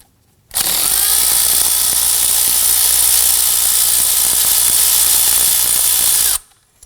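Power tool loosening and removing two 10mm bolts on the engine of a 2003-2014 Volvo XC90 during a serpentine belt replacement, a loud, steady whirring drone that runs unbroken for about six seconds and then cuts off, with no talking.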